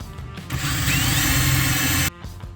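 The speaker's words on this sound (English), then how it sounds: "The hole is now drilled." A power drill bores a hole through a truck camper wall for a diesel heater install: one steady, loud, continuous whir of about a second and a half, starting and stopping abruptly, with no talking.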